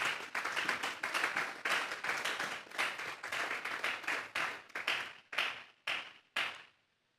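A church congregation gives the Lord a loud round of applause, with dense, lively clapping that thins into a few scattered final claps before dying away.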